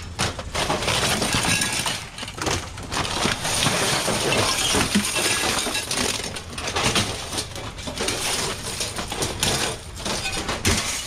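Broken glass is shoved and handled inside a dumpster, a dense continuous clatter of crunching, clinking shards that stays loud and close for the full stretch, with no voices.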